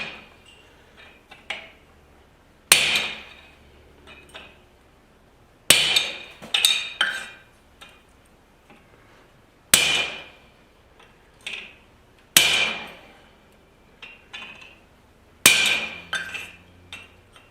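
Steel being chiseled with a hammer while forging a garden cultivator: six sharp, ringing metallic blows about three seconds apart, each trailed by a short clinking decay and a few lighter taps between, close and clear with no talking.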